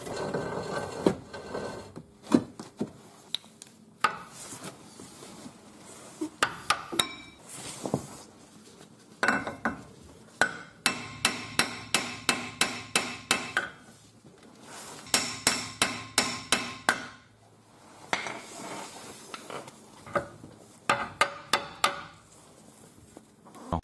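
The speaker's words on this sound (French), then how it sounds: "Je vais mettre une barre de levier ici et je vais taper sur le côté." Metallic hammer blows strike a pry bar wedged beside a riveted car suspension ball joint, landing in fast repeated bursts of sharp, ringing impacts with pauses and scraping in between.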